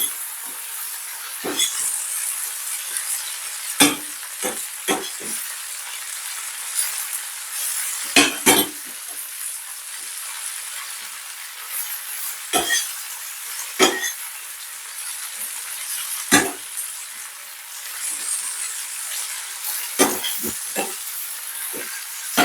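Mushrooms and fine green beans sizzle steadily in garlic butter in a pan, a constant close frying hiss broken by occasional clinks and scrapes as the food is gently turned.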